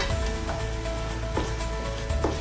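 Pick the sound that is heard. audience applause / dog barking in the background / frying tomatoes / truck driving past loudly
frying tomatoes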